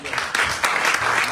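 Congregation clapping loudly during a Sunday church service, a dense wash of many hands across the whole moment, steady and close with brief swells.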